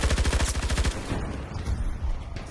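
Light machine gun fire in Battlefield 2042 during a stadium Rush defence: a rapid sustained burst of loud, close shots for about a second, then scattered gunfire and battle noise.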